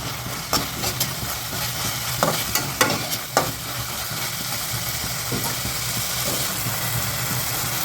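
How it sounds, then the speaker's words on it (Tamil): Capsicum and tomato sautéing in a pan for pasta make a continuous sizzle, with several sharp spatula scrapes and taps early on that settle into an even fry; no one talks. "இப்போ இந்த குடமிளகா போட்டுடலாம். இதையும் கொஞ்சம் நேரம் அப்படியே வதக்குங்க."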